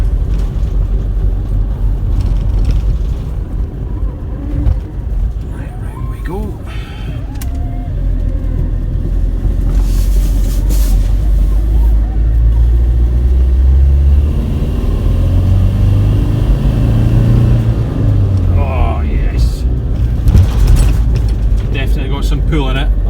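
An Iveco Daily campervan's engine drones low and loud in third gear while driving, a steady rumble with rising revs and road noise, as someone talks over it.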